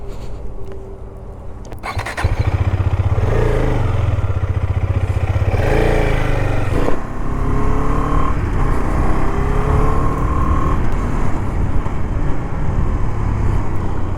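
A Husqvarna Svartpilen 250 motorcycle starts up and pulls away on the road, its single-cylinder engine rumbling loudly up close and rising through the gears in a series of revving, climbing pulls.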